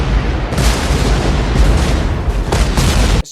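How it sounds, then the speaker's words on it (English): Artillery shells burst continuously in a war film set in the Pacific, dense rumbling booms and crackling blasts stacked on one another, loud and close, with sharper bursts near the start and end. "I also love the sound of the artillery shells more in The Thin Red Line. The way they burst, it just sounded so much cooler to me."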